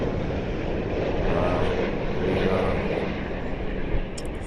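An Airbus A350-1000 with Rolls-Royce engines roars past at London Heathrow, a loud sustained jet rumble swelling and easing across the clip, with no talk over it.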